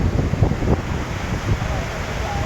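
Loud, continuous rushing of water released from a dam after rain, with a broad roar and gusty rumble, steady throughout with no voices.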